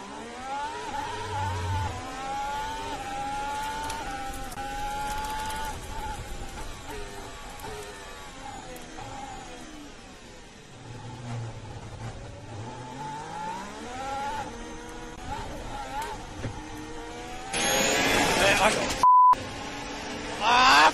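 Haas Formula 1 car on the first lap of the Bahrain Grand Prix, its engine whining and shifting through gears over a long stretch, with a sharp burst of noise near the end and talk layered underneath.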